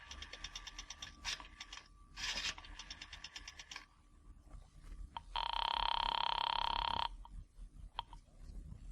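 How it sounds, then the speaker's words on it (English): A pay phone in an old radio drama sound effect: a coin drops in the slot, then a run of clicking dial pulses and a long steady ringing tone, all fairly faint and without voices. "dropped a nickel in the slot, and dialed"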